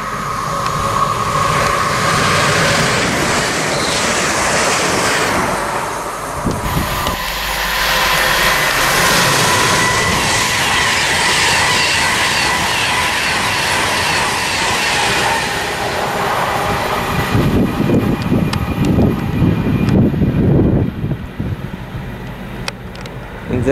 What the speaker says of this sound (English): There's the Virgin Trains Class 390 as well.